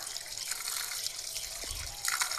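Starfruit (kamranga) being washed in water, a close steady splashing and trickling with light hissy texture and a soft low slosh near the end, no talk.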